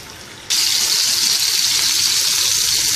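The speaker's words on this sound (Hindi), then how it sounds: "अब हम इनको ऐसे इसकी साइडें चेंज करते हुए अच्छी तरह से हर तरफ से फ्राई कर लेंगे।" Chicken shashlik sticks start frying in hot oil with a sudden loud, dense, hissing sizzle that holds steady at close range after a brief quieter moment.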